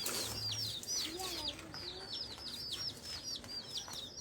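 Small colored chicks peep in rapid repeated high chirps, several birds cheeping over and over in quick bursts, fairly close but quiet, with soft low rustling underneath.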